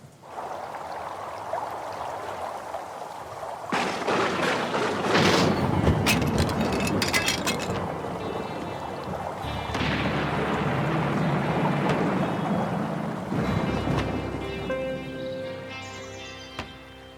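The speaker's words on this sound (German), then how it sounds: "Das war ja ein richtiger Sturm die letzte Nacht." A nighttime thunderstorm with rain in an animated setting: low rumbling bursts of thunder rise and fall over a continuous wash of rain-like noise, with no talking.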